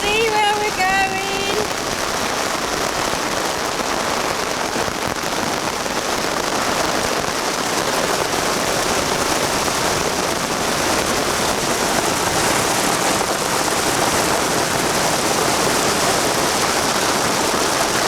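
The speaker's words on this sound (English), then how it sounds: "It was the heaviest rain." Very heavy rain falls in a dense, constant roar, loud and close, a steady wash of drumming drops with no pauses throughout.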